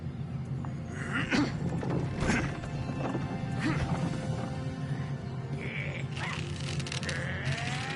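A horse named Roach neighs and gallops in a fantasy video game, whinnies rising over a steady bed of hoofbeats, game clatter and ambient sound.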